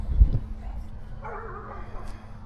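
A few dogs bark and yip in short, sharp bursts near the mic, a loud woof up front, then fainter yelps and whimpers, with a voice talking over them.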